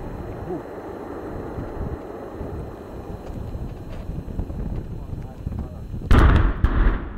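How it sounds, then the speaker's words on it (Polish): Gunfire at a military training ground, heard as a steady rumble of distant shots under heavy wind buffeting, ending in a couple of louder, closer blasts. "Także strzelają."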